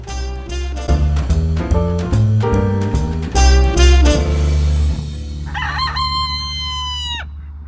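Upbeat music plays loudly, then fades as a rooster near a chicken coop lets out a single clear crow near the end.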